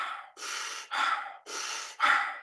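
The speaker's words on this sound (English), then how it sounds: "Breathing in, let it go. Breathe in, let it go." Deep, slow breaths during a breathing exercise, four long airy inhales and exhales in steady rhythm, close and fairly loud, with no talking over them.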